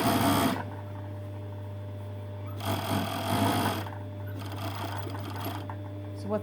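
A sewing machine hems 100% cotton fabric in short whirring bursts with pauses between them, over a steady low hum, close by, and a person speaks between the runs.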